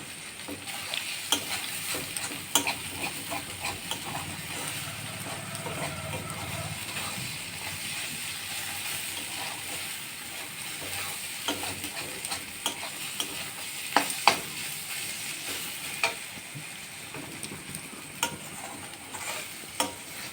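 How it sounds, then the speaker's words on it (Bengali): Food fries in a pan on a gas stove while it is stirred, a steady sizzle with intermittent scraping and clinks of the spatula, no voices. "এটা ভাজা মোটামুটি হয়েই এসছে, আর একটু নেড়ে ছেড়ে নেবো"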